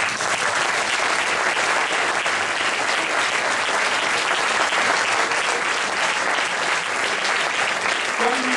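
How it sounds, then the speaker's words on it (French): An audience at a public campaign meeting claps steadily, a dense, loud, sustained round of applause with no break. "J'allais vous dire, vous pouvez encore les applaudir."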